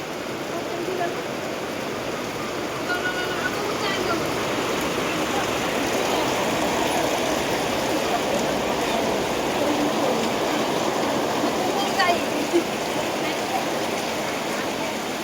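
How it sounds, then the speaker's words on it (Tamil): Steady rain falls outdoors in Odisha, a dense, continuous hiss of drops spattering on surfaces at an even, fairly loud level throughout, with no one speaking over it. "மழை வந்துடுச்சுங்க. மழை வந்து கெடுக்குதுங்க எல்லாத்தையும்."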